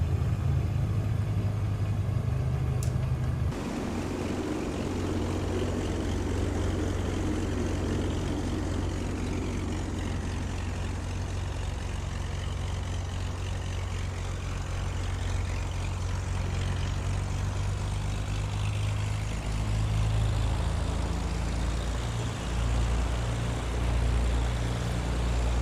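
Beechcraft G58 Baron twin piston engines in Microsoft Flight Simulator 2020, a continuous loud propeller drone with a low steady hum that shifts slightly in pitch after a brief change early on, with no talk.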